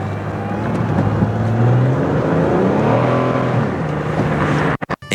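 Pontiac Grand Am GT with 348,000 miles on the road, its engine note droning steadily with rising and falling pitch as it accelerates and cruises, loud and continuous from the cabin.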